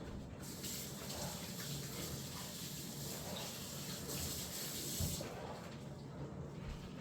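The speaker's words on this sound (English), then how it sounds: "let me wash my hands real quick" Hands are washed under a running outdoor tap, giving a steady broadband wash of flowing water that stays fairly quiet and constant throughout, with wind and faint background noise.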